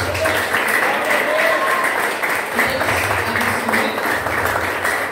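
Audience applause fills a church service, steady dense clapping throughout at a loud, even level, with some voices mixed in beneath.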